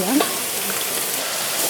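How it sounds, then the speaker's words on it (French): Strips of squid fry in hot oil in a pan with a steady, dense sizzle and crackle from start to finish; a short voice is heard at the very beginning. "Donc l'huile grésille, donc c'est chaud."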